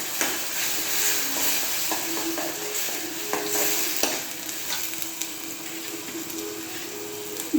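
Tomato puree with onions simmering in a pan, a continuous soft sizzle and bubbling with occasional light clicks of a spoon against the pan, heard up close without any voices.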